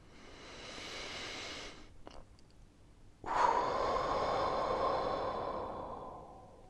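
Slow, deep breaths taken close to the microphone in a quiet room: a long soft inhale, a short pause, then a fuller, louder exhale that gradually fades.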